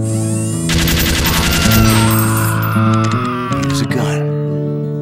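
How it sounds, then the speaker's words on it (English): Heavy-caliber tripod-mounted machine gun firing in a Source Filmmaker animation, a loud sustained burst of rapid fire over a musical score, with voice-like sound mixed in. "Use a gun."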